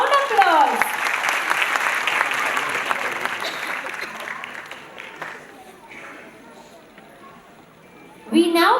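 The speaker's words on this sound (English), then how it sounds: "Round applause." A school audience at a pre-primary annual day celebration at St. Anne's High School, Borivali, breaks into loud, dense applause that gradually thins and fades. Quieter crowd noise and a voice follow near the end.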